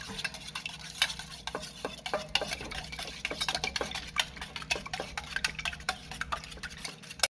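Egg beaten in a bowl for a cabbage cutlet, a fast, steady run of light clinking taps from the utensil against the bowl, close and continuous throughout with no talking.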